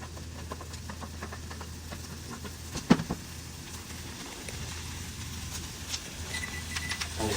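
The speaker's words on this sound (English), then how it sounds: "Sizzling." Butter and onions sizzle in a frying pan turned up to high heat, a faint steady crackle with one sharp pop partway through.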